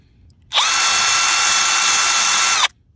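A power drill bores into a broken screw on a Suzuki LT125, running at a steady high whine for about two seconds, starting and stopping abruptly, close and loud with no talk.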